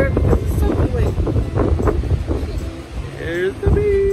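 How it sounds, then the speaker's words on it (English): Strong wind rumbles against the microphone on a high spot in Cancun while a person talks over it, with a few faint tonal squeaks near the end. "Sorry, it's a little windy up here."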